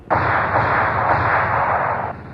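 Gunfire in a vintage radio adventure drama: one loud, dense burst of rapid shots lasting about two seconds, close and harsh, then a sudden stop, with no voices over it.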